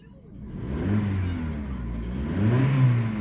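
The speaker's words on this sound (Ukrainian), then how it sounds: "Отак звучить двигун." A 2007 Skoda Octavia A5 1.6 FSI petrol engine revs up, its low rumble rising and falling in pitch, with a low voice or murmur faintly underneath.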